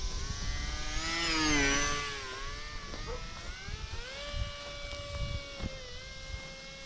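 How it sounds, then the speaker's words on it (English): An AeroScout S2 1.1 m RC plane's small electric motor buzzes through a fly-by, its pitch rising as it approaches and falling away as it passes, then droning steadily at a distance. "Nice little engine sound, motor, little buzz."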